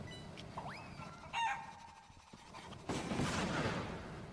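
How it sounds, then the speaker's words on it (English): Chicken sounds from a chicken launcher weapon in a video game, with a rising squawk-like call followed by a sustained tone, then a burst of noisy clatter near the end. "Take chicken launcher."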